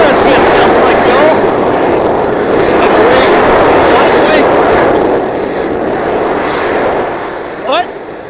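A loud, sustained roaring hiss of gas venting from SpaceX Starship Booster 9 after a static fire, broad and steady for several seconds before easing slightly, with voices talking over it.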